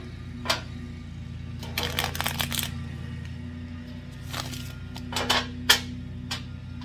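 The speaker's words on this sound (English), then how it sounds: "it never hurts to shuffle some more." Tarot cards being shuffled in several short papery bursts of riffling and sliding, close and fairly quiet, with soft handling noises between and no talk.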